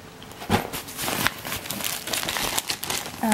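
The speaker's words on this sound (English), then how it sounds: "This is the plastic bag I use for coming to Australia to hold my liquids" Dense, continuous crinkling of a plastic bag being handled up close, with irregular crackly bursts throughout and no talking.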